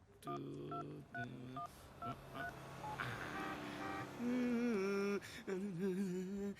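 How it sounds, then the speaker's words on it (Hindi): A telephone number is dialed on a keypad, a quick run of separate DTMF beeps in uneven rhythm followed by longer ringing-like tones, fairly clear and close. "अभी फोन लगाता हूँ उसको, देख।"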